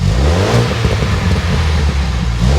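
2021 Ford Bronco with a custom-fabricated axle-back exhaust revving, a loud close deep rumble that swells and falls in quick throttle blips.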